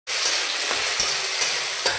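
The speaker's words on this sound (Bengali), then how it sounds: "আর এই রসুন দিয়ে দিলাম, দিয়ে একটু ভেজে নেবো রসুনটা, আর কালি জিরে আর হচ্ছে কাঁচা লঙ্কাটা একটু ভেজে নেবো" Green chillies fry in hot oil in a pan, a bright, steady, close sizzle that starts abruptly and carries a few soft pops and spatters throughout.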